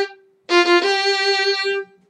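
A bowed string instrument plays measure 25 with doubled eighth notes in a down, up, down pattern, one short held tone followed by a sustained, slightly pulsing bowed passage of nearby notes, played alone.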